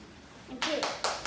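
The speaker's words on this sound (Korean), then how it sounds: "박수." At a taekwondo grading, three distinct sharp claps ring out close by after a brief murmur of voice, spaced roughly evenly in a short burst.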